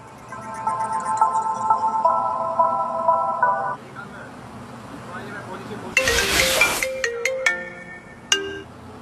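A phone ringtone plays a repeating melodic tone for a few seconds during a call, then a burst of crowd noise and a few more electronic beeps follow. Faint voices sit underneath.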